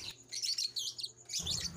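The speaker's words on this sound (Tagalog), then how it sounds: "ang ating mga pababang ibon ngayon" Young racing pigeons at a loft give bright, busy chirps and tweets in two clusters, close and fairly loud, with a low steady hum underneath and no one talking.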